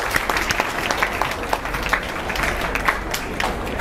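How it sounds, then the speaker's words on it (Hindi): Applause from an audience at a coaching institute's results ceremony, a steady wash of clapping with scattered sharper claps, moderately loud and continuous throughout. "ताली बजा भैया जोरदार"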